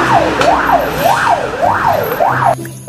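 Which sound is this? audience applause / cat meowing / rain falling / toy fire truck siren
toy fire truck siren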